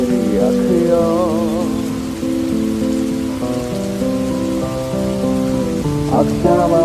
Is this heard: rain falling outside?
yes